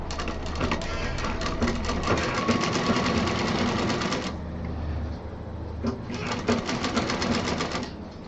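A sewing machine runs in a fast, loud, rattling stitch beside the zip of a homemade folding travel bag, pausing briefly midway before starting up again.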